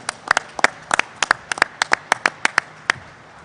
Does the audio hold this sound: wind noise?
no